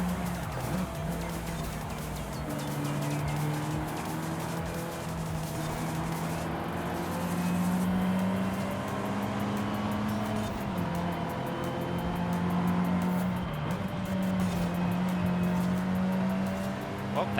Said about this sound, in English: It sounds like it could be like probably a V6 turbo